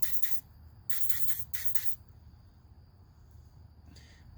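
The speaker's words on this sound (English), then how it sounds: "spray it up in there a little bit." Three short bursts of throttle body cleaner aerosol spray hiss close by into an engine's throttle body, followed by a fainter fourth spritz over a quiet background.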